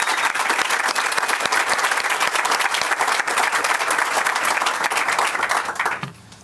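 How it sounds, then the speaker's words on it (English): Audience applause at an outdoor groundbreaking ceremony for a logistics company, sustained loud clapping from a crowd that stops abruptly near the end. "Let's give them all a round of applause."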